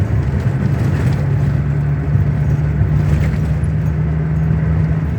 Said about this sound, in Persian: ببینید خداوکیلی این اتوبانه